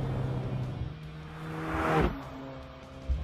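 A 2016 Alfa Romeo 4C Spider's mid-engine whirs and whooshes as it revs up through the midrange, then drops off, the drivetrain whine rising and falling.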